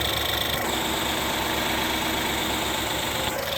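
The engine of a 2013–2016 Ford Escape runs at a steady idle, a close, continuous low hum and rumble with no voices.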